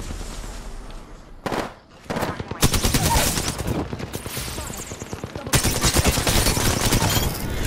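Rapid bursts of automatic gunfire in an Apex Legends ranked match, near and loud, with brief pauses between volleys and dense sustained firing in the later stretch.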